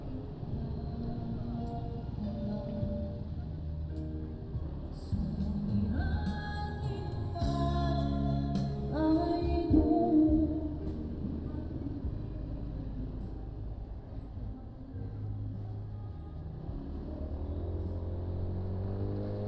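Road traffic at a funeral procession slowdown in a Pangasinan town, cars and motorcycles rumbling and idling steadily nearby, with engines swelling louder midway before settling back to a low continuous drone.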